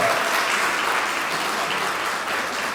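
Steady, dense applause from a crowd of former classmates and teachers at a student reunion gathering, loud and continuous throughout with no pauses.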